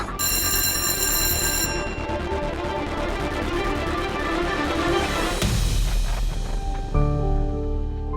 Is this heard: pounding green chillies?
no